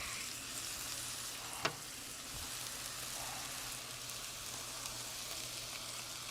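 Smashburger patties sizzling on a flat-top griddle, a steady close crackle of frying fat with a single sharp metallic scrape of a spatula partway through.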